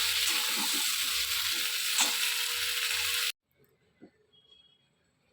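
Tomatoes and green chili fry lightly in a pan for a chutney, making a close, dense, crackling sizzle with a stirring rattle. After about three seconds it cuts off abruptly, leaving near silence with a few faint knocks.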